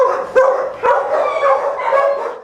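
A dog at an animal shelter gives a run of loud, close barks and yips with a whining edge, several bursts in quick succession.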